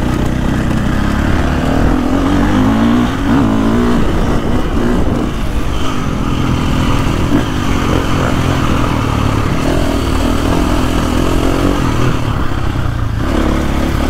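A KTM 450 Factory Edition motocross bike laps a soft, rutted track, its engine roaring loud and close from an onboard position, rising and falling through throttle changes, with steady clatter over the terrain.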